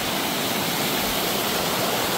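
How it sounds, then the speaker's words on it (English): Duck Creek on the John Muir Trail flowing at a crossing, a steady close broadband rush of water that stays loud and even throughout. "Crossing Duck Creek."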